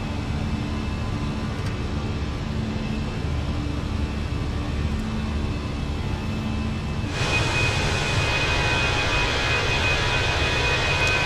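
Airliner jet engines during takeoff in Microsoft Flight Simulator, a steady roaring rush that swells louder and brighter partway through as power builds, with no talk.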